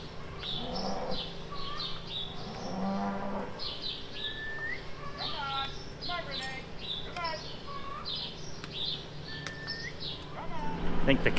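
Cows moo repeatedly at early morning milking time on a hay farm, several drawn-out calls at moderate distance, with birds chirping and a steady hum in the background.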